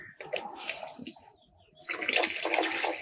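Water splashes into a pot of village-style chicken curry made without masala spices, in two close, loud gushing bursts separated by a brief pause.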